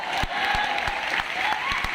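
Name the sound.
audience applause at Teacher's Day meetup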